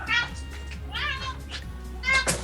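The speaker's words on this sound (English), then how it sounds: "I got a cat." A house cat meows close by several times, each meow a short rising-falling cry, with people talking quietly in the room underneath.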